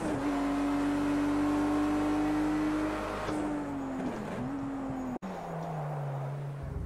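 A race car engine in a racing video game holds a steady, high droning whine, then dips and falls to a lower pitch as the throttle eases, heard alone without talk.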